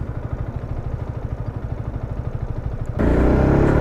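A Yamaha MT 125 motorcycle engine thrums with a steady pulsing beat while riding, then rises abruptly into a louder, denser roar as the throttle opens near the end.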